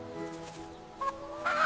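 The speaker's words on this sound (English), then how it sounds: "This is a chicken." A chicken gives a few short clucks, close and moderately loud, in a brief burst of separate calls with no talk.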